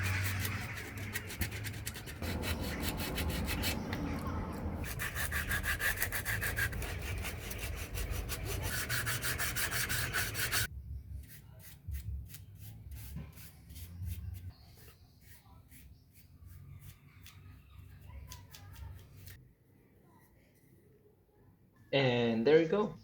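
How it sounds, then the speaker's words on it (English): A wooden piece being sanded by hand before a second finishing coat, rhythmic rasping strokes loud at first, then quieter and sparser rubbing, ending in a short burst of louder scraping. "I had to sand the piece first."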